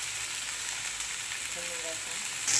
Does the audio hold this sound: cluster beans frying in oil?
yes